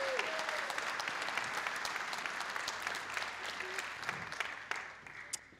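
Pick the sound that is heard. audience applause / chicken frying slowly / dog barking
audience applause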